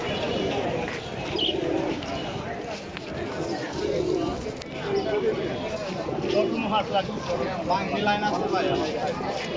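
Pigeons coo in soft repeated bursts against a busy crowd murmur at a weekly pigeon market selling Giribaz and other breeds, with voices talking throughout.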